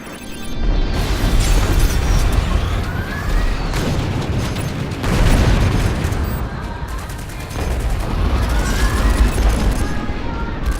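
In the space combat game Strike Suit Zero, the strike suit's guns fire in dense rapid bursts with booms and explosions, loud and continuous, with voices talking over the barrage.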